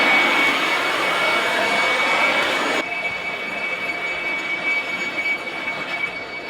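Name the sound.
leaf blower running on Jackery 3000 Pro power station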